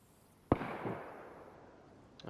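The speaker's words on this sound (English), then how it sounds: "it's the same guy shooting." A single sharp gunshot cracks out in the DayZ video game, followed by a long fading echo and a second faint shot near the end; no talking.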